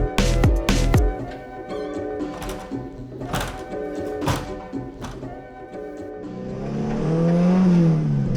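A project car with a busted clutch, fitted with a limited slip diff and not yet properly tuned, revs loudly in a workshop, with sharp clunks and bursts early on, then a rising sustained engine drone toward the end.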